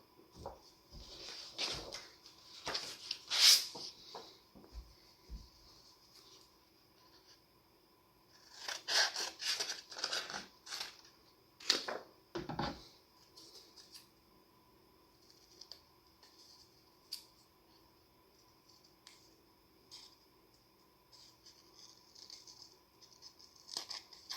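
Scissors make a rough cut through paper for a pop-up box craft, producing intermittent clusters of crisp snips and rustles, close and quiet, with no talking.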